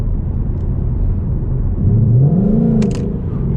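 2020 Ford Mustang GT with its 5.0 V8 at part throttle, heard from inside; a low steady rumble swells and a rising engine tone climbs then eases near the end.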